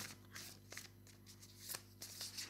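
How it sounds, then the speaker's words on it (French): A deck of oracle cards is shuffled by hand close up, giving soft, quiet riffling and sliding flutters in several short bursts, with no voices. "Si je continue, tirage en 5 cartes."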